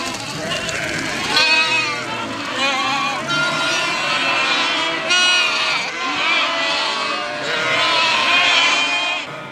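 Many sheep outdoors and lambs in pens bleat loudly and continuously, overlapping cries from a close-by flock.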